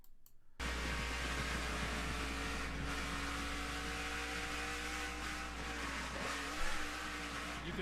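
A NASCAR race car's engine roars steadily at close range onboard, a continuous high mechanical whine with a brief surge near the end as the rear tire spins hard, raising smoke.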